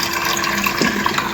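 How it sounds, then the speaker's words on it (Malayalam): Mutton being rinsed once more in filtered water, a steady close splashing and gushing of water over the meat with no talk. "ഇനി ഒന്നുകൂടി കഴുകിയെടുക്കാം, ഫിൽറ്റർ വെള്ളത്തിൽ കഴുകിയെടുക്കാം."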